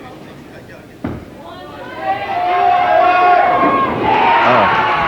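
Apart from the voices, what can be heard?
audience cheering at a junior bowling match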